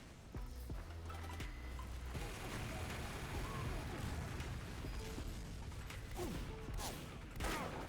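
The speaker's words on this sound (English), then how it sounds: "And then I'm blowing people up left, right, and center. People are exploding." Explosions and combat in the video game Team Fortress 2 keep rumbling and popping for several seconds: a steady wash of blasts, bursts and mechanical clatter at moderate level, with some tonal game sounds near the start.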